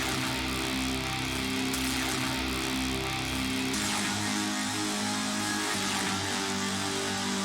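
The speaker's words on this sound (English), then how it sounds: "First thing I lay down is this kind of electric guitar kind of sound from Omnisphere" An Omnisphere electric guitar patch lays down a dark, dense chord progression for a beat, thick sustained chords changing every couple of seconds, loud and alone.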